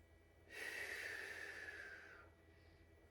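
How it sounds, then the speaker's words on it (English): One long, deep breath drawn in and let out slowly during a hip and glute stretching session, close and quiet, rising and then fading within a few seconds. "Two more deep breaths here."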